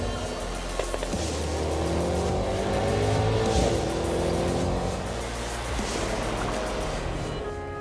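Mercedes-AMG GT 4-door coupé with a bi-turbo V8 launching hard, a loud, sustained engine roar that rises in pitch through the run with squealing tires, close and with no talk.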